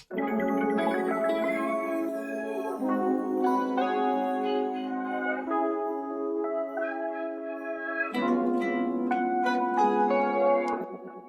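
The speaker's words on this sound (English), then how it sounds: "I just played a little phrase on my acoustic guitar" A short melodic phrase on acoustic guitar, plucked notes ringing out clearly and steadily, with a brief pause and then a brighter run of notes near the end.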